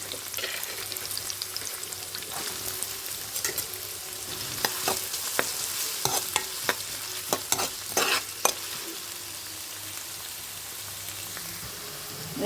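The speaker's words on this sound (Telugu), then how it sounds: "ఇప్పుడు ఉల్లిపాయ ముక్కలు వేసుకుని కొంచెం వేయించుకోవాలి." Onion pieces frying in a pan with chopped green chillies, a continuous close sizzle broken by a busy run of clicking spatula stirs in the middle before settling back to steady frying.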